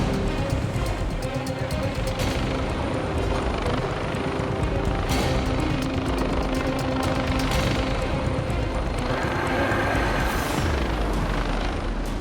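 Rescue helicopter hovering near a cliff during a winch rescue of a fallen patient, a steady loud rotor roar and engine whine filling the whole stretch without a break, with no talk over it.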